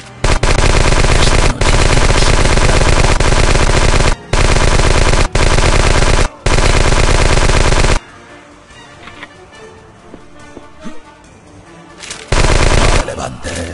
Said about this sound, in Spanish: Una shotgun, me encanta. Una escopeta, weón.